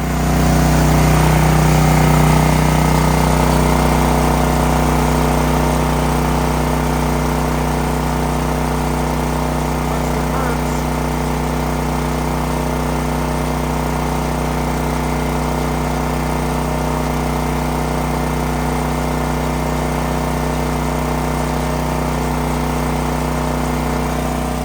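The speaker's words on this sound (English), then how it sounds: "let's go look at the generator" A Champion generator runs outdoors in snow and cold, a loud, steady, close engine hum with a constant low throb and mechanical rattle that holds unchanged for about twenty-five seconds, with no one talking.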